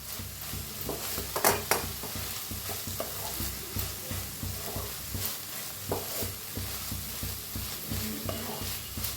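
Egg masala with coriander leaves is stirred in a pan over medium heat, a soft sizzle running beneath irregular scrapes and taps of the spoon, fairly quiet and close, with no voices.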